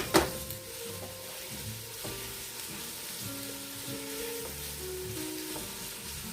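Chicken and sausage with onions frying in a pot, a steady close sizzle throughout with a few stirring scrapes and no talk.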